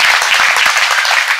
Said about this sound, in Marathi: एक जोरदार टाळ्यांचा कडकडाट होऊ द्या